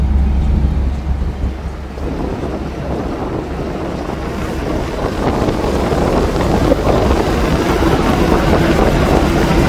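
A fishing boat heading out to sea at night, with a low steady engine rumble, wind buffeting the microphone and waves washing along the hull, continuous and fairly loud throughout.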